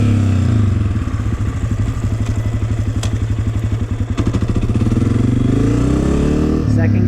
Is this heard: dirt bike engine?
yes